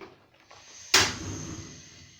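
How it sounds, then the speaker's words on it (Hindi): Gas stove switched on in a home kitchen, a single sharp click followed by a soft hissing rush of the lit burner, close and otherwise quiet. "साथ चूल्हा ऑन कर लेंगे।"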